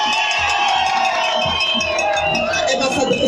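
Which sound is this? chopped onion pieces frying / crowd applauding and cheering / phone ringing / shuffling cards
crowd applauding and cheering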